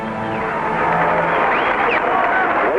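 Crowd assembled on the hangar deck of the USS New Orleans greeting the returning Apollo crew, a dense, steady, loud murmur of voices and cheering throughout.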